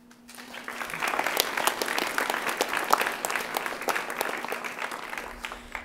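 Sustained applause from an audience at a school board meeting honoring fall athletes, dense clapping rising quickly and holding steady for several seconds with no one speaking.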